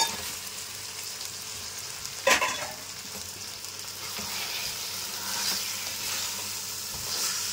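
Half a kilo of mutton being stirred in a pan with mint and coriander for white mutton biryani, a steady close sizzle with a sharp scrape of the spoon near the start and ongoing stirring, no talk.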